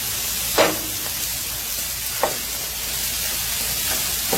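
Rice with turmeric cooks in a hot pan, producing a continuous, fairly loud broadband sizzle with a few brief stirring clicks spaced seconds apart.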